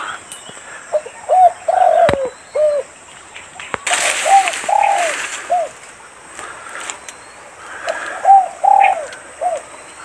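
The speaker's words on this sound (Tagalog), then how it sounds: "mga ibon dito." Doves coo in repeated soft phrases among trees on a hillside above a river, with a few faint chirps from other birds and a brief rustle in between.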